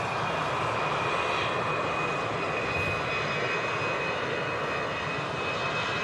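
An Emirates airliner on approach at Manchester Airport, its engines a steady, broad roar that holds evenly throughout at moderate distance, with no voices over it.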